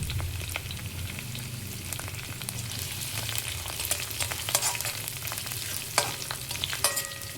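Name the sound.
curry leaves and green chillies frying in a pan for fried rice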